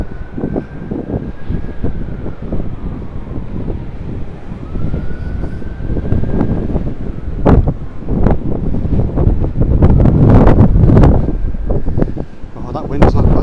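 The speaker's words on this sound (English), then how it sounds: "that wind's not backing down" Strong gusty wind buffets the microphone on a seaside promenade by huge waves, a loud continuous roar that swells and surges, with a faint wavering siren-like tone drifting in the background.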